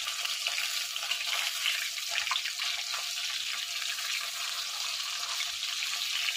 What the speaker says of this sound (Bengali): তো তার জন্য আমি হলুদ নুন মেখে মাছগুলোকে ভালো করে ভেজে নিচ্ছি।